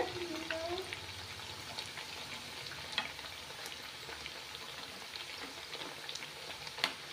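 Peanut, garlic and ginger thattai frying in hot oil: a steady, soft crackling sizzle with small pops throughout, close and fairly quiet, and a brief voice-like tone near the start.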